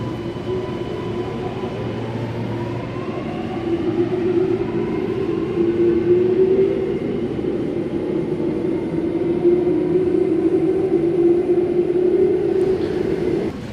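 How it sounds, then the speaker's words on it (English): An Alstom Metropolis metro train departs from platform 1 with a rising electric motor whine over a steady rumble that builds and holds for several seconds, loud and close. "Alstom Metropolis set number 14 now departing platform number 1 for a Chatswood only service."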